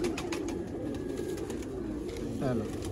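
Low, soft cooing from red-eyed pigeons rolls on continuously nearby in Sialkot, Pakistan, with a brief murmured voice rising briefly near the end.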